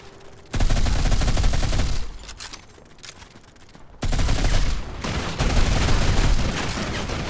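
Automatic rifle fire in the mobile shooter Modern Combat 5 comes as loud, sustained bursts of rapid shots, with a short lull between them before firing resumes, close and dense.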